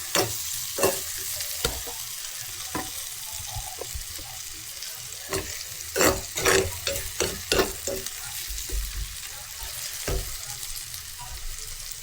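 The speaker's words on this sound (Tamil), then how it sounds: "கருவேப்பிலை போட்டு நல்லா மிக்ஸ் பண்ணி கொஞ்ச நேரம் வதக்கும்." Curry leaves with fenugreek seeds sautéing in a pan for a Jaffna-style mussel curry, a steady sizzle broken by repeated sharp scrapes and knocks of a spoon stirring, close and fairly loud with no talking.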